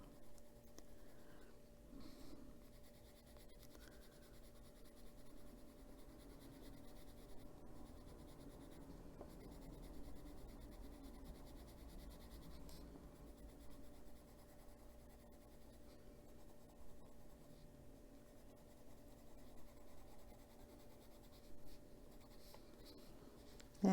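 A gold colored pencil is rubbed over a paper coloring page, making a faint, continuous close scratching with small pauses as the strokes change, quiet over a low steady hum.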